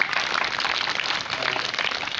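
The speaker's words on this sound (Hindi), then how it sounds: "जोरदार ताली इनके लिए" Applause from an audience at a girls' government English-medium school event in Bakht Sagar, a dense, steady patter of many hands clapping continuously throughout.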